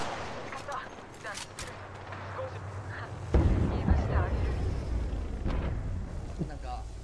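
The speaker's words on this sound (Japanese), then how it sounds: "ガンガン撃ち込まれとる" Video-game gunfire comes in rapid bursts and heavy impacts, growing louder and denser partway through, with players talking excitedly over the shooting.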